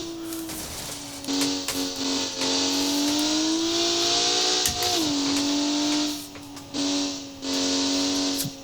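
Car engine from the BeamNG driving game fitted with a muffled, non-straight-pipe exhaust, droning steadily with pitch rising and dipping through revs and gear changes, brief lifts off the throttle, fairly loud and with no talk.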